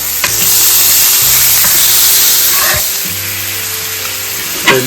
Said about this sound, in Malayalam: നമുക്ക് ഇനി അതേ പാനിലേക്ക് തന്നെ മട്ടൻ ചേർത്ത് കൊടുക്കാം കേട്ടോ.